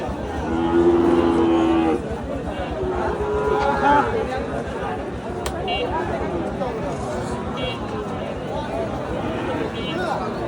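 At a cattle market, a cow lets out a loud, drawn-out moo near the start, followed by a busy crowd chattering and people talking in the background.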